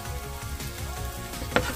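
Onion sautéing in a pan, a soft continuous sizzle close by with a brief scraping clatter near the end, no voices.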